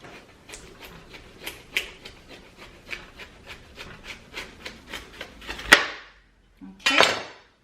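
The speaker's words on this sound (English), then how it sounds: "we're going to cut the ends off the watermelon" A not-very-sharp knife saws through the ends of a watermelon on a cutting board, giving a steady run of rhythmic rasping strokes that ends in a louder crunching cut, then a brief pause and another scraping burst.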